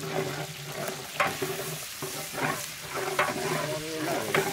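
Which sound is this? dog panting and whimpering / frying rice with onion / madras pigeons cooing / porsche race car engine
frying rice with onion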